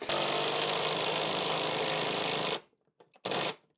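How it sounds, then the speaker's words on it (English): An impact driver fitted with a socket drives a lag bolt for a metal wall shelf, hammering loudly and steadily for a couple of seconds, then firing one more short burst after a pause. "using my impact driver with a socket on the end to put this next lag bolt in"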